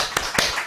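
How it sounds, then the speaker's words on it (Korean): Two sharp claps ring out about a fifth of a second apart during a church worship service, a brief pair of close hand claps. "우리 박수!"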